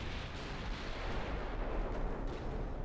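A naval gunfire hit in the Ultimate Admiral Dreadnoughts video game: a dense, rumbling boom of shellfire that stays broad and sustained for about three seconds, heard on its own at moderate loudness.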